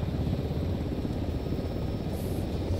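An in-game helicopter in Arma 3 roars steadily and close, a continuous low rotor and engine drone with no talk over it.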